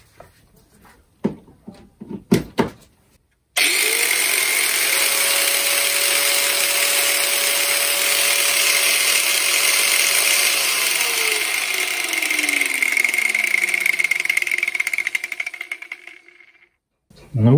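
Repaired angle grinder switched on after a few brief handling knocks, its motor spinning up to a loud, steady high-pitched whine that runs for about twelve seconds, then winds down and stops.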